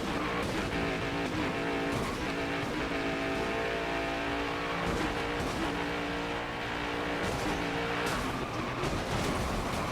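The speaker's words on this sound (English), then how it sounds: "Took us a while, but we finally wrecked." Next Gen stock car wrecking in the NASCAR Heat 5 video game, a dense, continuous roar of racing engines with layered harmonic whine and scraping, loud and steady throughout with brief dips.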